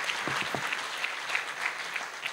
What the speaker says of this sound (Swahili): Ongeza makofi mengi sana